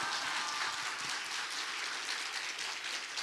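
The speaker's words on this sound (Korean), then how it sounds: "할렐루야로 박수로 화답하겠습니다" A church congregation applauds at a New Year revival service, a soft, continuous patter of many hands heard faint and at a distance.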